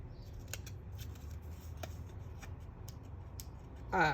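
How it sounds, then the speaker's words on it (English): Small scissors make quiet, repeated snipping cuts while fussy cutting around a paper die cut at a crafting table, each crisp snip spaced about half a second apart, close and soft over low background hum. "I took this die cut and I fussy cutted the solid one out, just kind of trimming up my"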